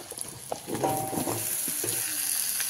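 Potatoes and pumpkin fry with onions in a pan over a medium gas flame for a Bengali pui shaak chorchori, a steady close sizzle with a few soft stirring clatters.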